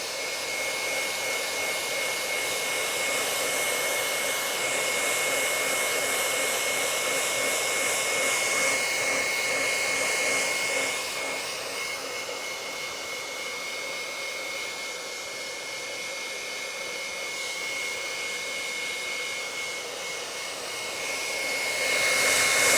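A hair dryer blows over a fresh painting with a loud, steady whirring roar that holds for the full length. Its tone shifts slightly as the dryer moves, then it swells again near the end.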